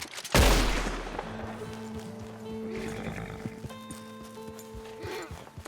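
Horse riding in the video game Red Dead Redemption 2, a sharp opening burst followed by steady hoofbeats and in-game ambience with faint tonal music, fairly close and without speech.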